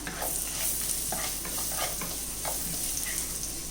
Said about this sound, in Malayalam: ഇതിലേക്ക് നമുക്ക് ചെറുതായിട്ട് അരിഞ്ഞു വെച്ച വെളുത്തുള്ളി ഇട്ട് കൊടുക്കാം